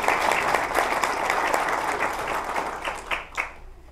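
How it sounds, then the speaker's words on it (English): Audience applause at a fire department awards ceremony, a dense wash of clapping from a large crowd that holds steady for about three seconds, then thins into scattered claps and fades out. "let's give Captain Larson a round of applause for his 15 minutes"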